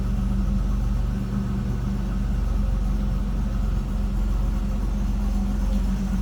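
A stock 1986 Buick Regal Grand National idles steadily up close, a low, even rumble with a faint rhythmic pulse that holds unchanged throughout, with no voices over it.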